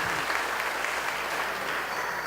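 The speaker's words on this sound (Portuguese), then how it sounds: "Uma salva de palmas para eles." Sustained audience applause at a Catholic life testimony gathering, a thick continuous roar of many people clapping at steady volume from start to finish, with no voices standing out.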